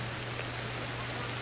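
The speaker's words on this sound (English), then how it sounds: "I think I'll just stand out here in the rain." Rain falls in the video game Ancestors, a faint, steady hiss of drops with a low constant hum underneath, unbroken and with no voices.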